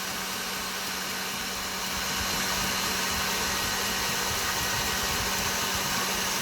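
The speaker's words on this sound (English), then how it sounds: "Now we can start to see the traces of the whisk in the egg white." Egg whites being beaten with an electric whisk, a constant loud motor whir with a steady buzzing drone throughout, without pauses or talk.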